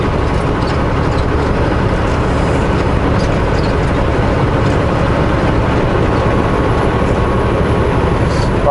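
An empty truck climbs a hill, its engine making a loud, steady, continuous drone and rumble with road noise from start to finish and no voices.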